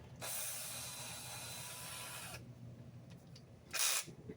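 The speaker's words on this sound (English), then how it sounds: "Set the drill in." A power drill whirs steadily as it drives into a 3D-printed part for a resin printer cabinet build, a close two-second run, then a pause with faint handling clicks and a short, sharp final burst.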